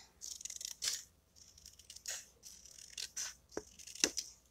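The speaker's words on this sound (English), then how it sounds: "grab your paper snips and we are going to cut below the snow" Paper snips cut through paper while a snow hill is trimmed for a penguin papercraft card kit. Several quiet, crisp snips come at uneven intervals in a near-silent room.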